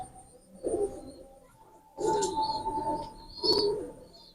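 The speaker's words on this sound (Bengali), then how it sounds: "রানিং শিয়ালকুটি নর কবুতর।" A Sialkuti male pigeon coos in three short bouts of low, throaty calls, close and clear against a quiet background with faint chirps.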